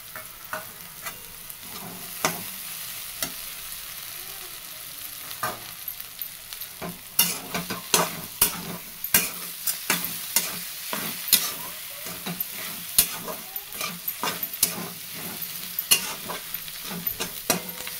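Chopped okra hisses and crackles in hot oil tempering while a spoon scrapes and stirs the pan in repeated sharp knocks, steady for the whole stretch.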